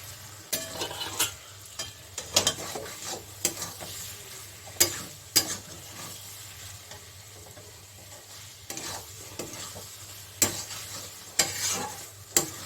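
Chicken bhuna masala frying in a pan, a low steady sizzle broken by repeated sharp scraping clatters of a spoon stirring the meat and spices, close by with no talking.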